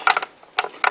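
Jack raising the engine of a TEF20 grey Fergie tractor, giving two short bursts of metallic ratcheting clicks separated by a brief pause, close and crisp.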